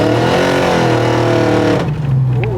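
A 1984 Buick Electra wagon with an LS1 V8 swap accelerates hard, its loud, close engine roar climbing in pitch for nearly two seconds before abruptly dropping off to a lower drone.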